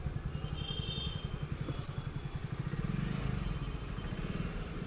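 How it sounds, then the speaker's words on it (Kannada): Bike taxi motorcycles pass on a Bengaluru street, a steady low engine drone with one passing swell near the middle, heard alone in traffic ambience. "ಬೈಕ್ ಟ್ಯಾಕ್ಸಿ ನೋಡಿ ಬರ್ತಾನೆ ಇರ್ತವೆ"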